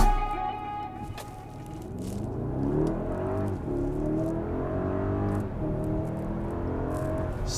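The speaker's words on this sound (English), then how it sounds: "2021 Mercedes Maybach GLS600 4MATIC without launch control" A 2021 Mercedes-Maybach GLS 600 4MATIC with a 4-liter twin-turbo V8 driving and accelerating, its engine note heard from inside as a smooth, rising and falling tone over steady road noise, with a few faint clicks.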